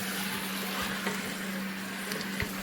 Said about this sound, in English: I am going to stir these around and just kind of like cook them a little bit, and these onions and peppers